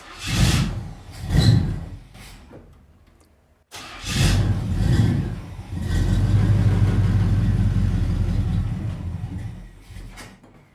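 An old abandoned Pontiac engine cranks in two short bursts, falls quiet, then catches and settles into a rough, steady running drone close by.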